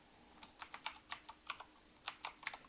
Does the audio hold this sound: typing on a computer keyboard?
yes